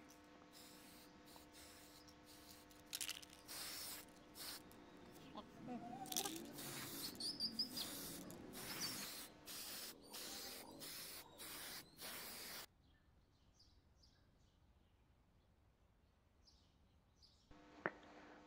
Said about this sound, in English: Spray paint on all the components for looking beautiful.